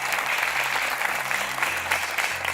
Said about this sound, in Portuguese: Então vamos lá aplaudir a Márcia.